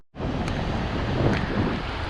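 Strong southeasterly sea wind blasting a microphone on Praia do Diabo beach in Rio, a dense, continuous rumbling roar with slight gusts and no voices.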